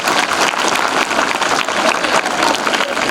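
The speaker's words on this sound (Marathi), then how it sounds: "याच्यासाठी जोरदार टाळ्या" Loud, dense applause from an audience at a Shiv Jayanti 2022 quiz event, steady clapping filling the hall without a break.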